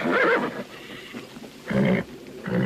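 A stallion in a western film gives loud, close neighs: a shrill whinny at the start, then two shorter whinnies toward the end, with quieter rustling in between and no talk.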